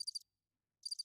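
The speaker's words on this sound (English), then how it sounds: "Lots of crickets." Two bursts of cricket chirps fired from a soundboard, each a quick pulsing trill about a quarter second long, separated by a short silence and heard cleanly with no other sound.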